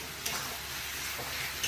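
Vegetables for a vegetarian dish cooked without onion or garlic are stirred and fried dry in a pan, giving a soft, steady sizzle with a couple of faint scraping strokes, close by but quiet.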